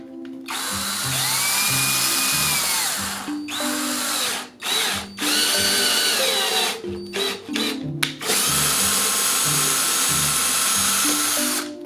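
Power drill driving a threaded insert into wood using a machine screw, loud whirring bursts with pitch changes as the motor strains, broken by short pauses and trigger restarts.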